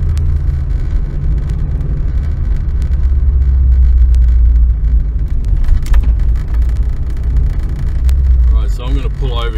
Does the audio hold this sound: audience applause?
no